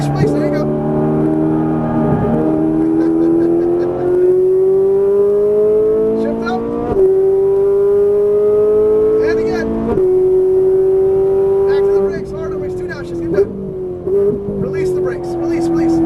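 A Ferrari 458 Italia engine drones loudly and steadily climbs in pitch, dropping briefly at each gear shift before rising again, with a voice talking over it.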